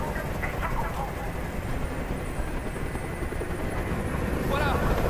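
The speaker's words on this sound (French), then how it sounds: "Je ne peux plus supporter ce bruit. Fais dégager cet hélicoptère" A steady, thrumming helicopter drone in the video game Detroit: Become Human fills the scene, loud and continuous, with a brief voice rising over the noise near the end.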